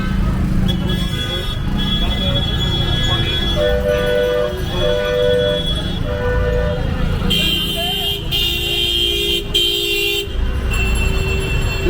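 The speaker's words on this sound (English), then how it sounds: "Look at the honking person" Car horns honk repeatedly in dense Dhaka street traffic, short toots and longer blasts overlapping above a constant loud engine rumble, with voices talking underneath.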